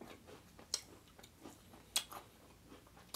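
Crunchy Butterfinger cookie with caramel being chewed close up, a few sharp crisp crunches spaced irregularly between softer mouth sounds, with no talking.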